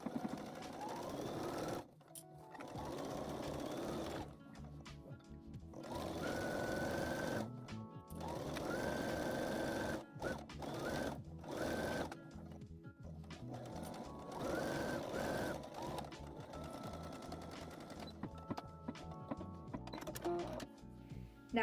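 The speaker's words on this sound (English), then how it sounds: "I will stitch all the way around, making sure to backstitch at the beginning and the end" Close up, a sewing machine stitches around the rim of a fabric vanity bucket in quiet, steady runs, pausing and restarting at intervals.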